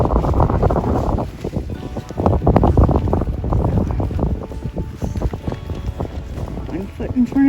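Strong gusting wind buffets the microphone on an exposed hilltop stretch of the Camino de Santiago between Portomarin and O Pedrouzo, a loud, continuous low roar with rushing surges and bits of nearby sound.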